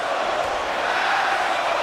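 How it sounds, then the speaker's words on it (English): Wrestling show crowd roaring with a dense, steady wash of cheers and boos, continuous and fairly loud with no clear voices standing out. "the crowd really letting them hear it"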